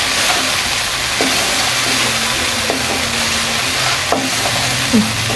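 Masala sizzles and fries in a pan while being stirred for a taro leaves curry, a steady loud frying hiss with occasional scraping clinks of the spoon, no voices.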